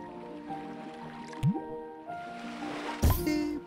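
Water being poured onto plants in the gardening video game Grow On The Go: a brief squishy drip and a liquid splash, with game tones and a short upward blip running underneath.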